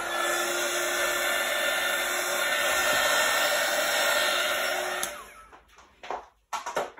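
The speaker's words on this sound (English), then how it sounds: "Obviously, the embossing gun's kind of loud." Embossing heat gun blowing for an acrylic pour, a loud steady whirring hiss held for about five seconds before cutting off, followed by faint handling clatter.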